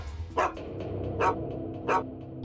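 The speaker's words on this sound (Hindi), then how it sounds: "यहाँ तो कोई भी नहीं है, फिर ये कुत्ता क्यों भौंक रहा है?" A dog barks three times at a station, each sharp bark about three quarters of a second apart over a low background hum, moderately close with no one speaking.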